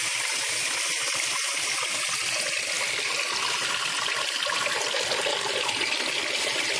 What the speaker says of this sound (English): The water easily flows down straight through the rock.